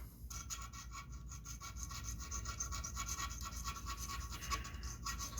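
A bead reamer rubs and scrapes steadily inside a hole on a Jensen P15LL loudspeaker, producing a continuous close-up grinding scratch with no talking.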